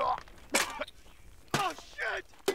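A soldier character coughing in the military sim game Squad, several short raspy coughs and groans in separate bursts, fairly quiet.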